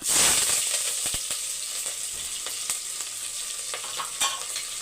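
Onion, green chillies and curry leaves sauté in a pan with spices for chicken biryani, a loud close sizzle that settles into a steady hiss, dotted with sharp stirring clicks and scrapes.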